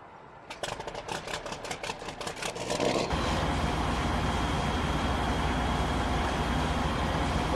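A Robba Steiger tractor in Farming Simulator 19 cranks over with a quick series of rhythmic starter pulses, then catches into a loud, steady, rumbling idle that carries on alone to the end.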